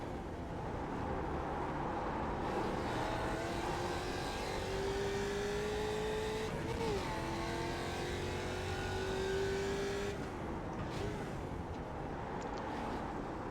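Steady, loud engine drone of a Mustang production race car in the iRacing video game at Ledenon, holding a sustained whine with small pitch shifts through corners and no talking.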